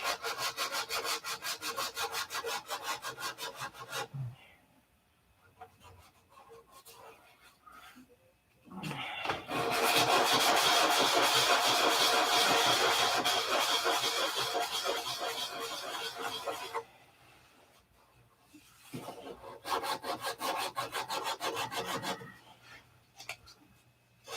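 Wood being hand sanded in repeated bursts of rough, rhythmic rasping strokes, loud and close, with short quiet pauses between sessions and a long continuous stretch in the middle.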